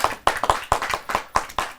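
An audience at a Hindi poetry gathering claps in a quick, steady run of sharp hand claps, close and fairly loud, with no talking over it.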